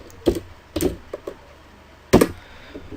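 A few separate keystrokes on a computer keyboard while entering names in an Excel spreadsheet, close and crisp, sparse taps with pauses between them and no voices.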